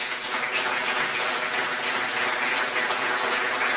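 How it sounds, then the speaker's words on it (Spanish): A church congregation claps steadily together, a dense, even wash of applause heard from within the room for a few seconds. "Dale un aplauso al Señor."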